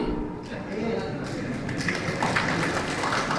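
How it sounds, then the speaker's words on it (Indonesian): Audience applause fills a Muhammadiyah religious lecture hall during a 109th Milad gathering: dense, steady crowd clapping at moderate level throughout, with a faint murmur of voices mixed underneath. "Loh, kok tepuk-tepuk?"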